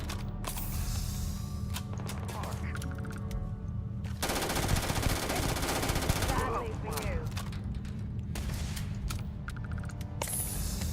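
Rapid bursts of gunfire from a gun in the sci-fi video game Starfield, with a dense, sustained volley in the middle and scattered mechanical clatter around it, loud over a constant low game hum.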